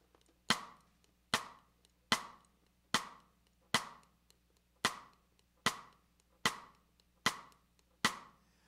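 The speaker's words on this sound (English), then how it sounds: "The full bossa nova beat sounds like this." Bossa nova cross-stick pattern on a drum kit: ten sharp, evenly spaced clicks land about once every 0.85 seconds in a steady pulse, played close and dry with no voices.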